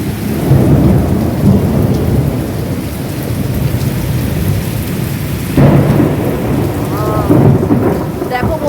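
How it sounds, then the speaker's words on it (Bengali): Heavy downpour during a thunderstorm at a home during a power cut, loud dense rain hammering surfaces throughout with rolling thunder swelling in, close and continuous with no talk. "বিশাল বিশাল বৃষ্টি হচ্ছে, আসে দেখো মেঘে গর্জন,"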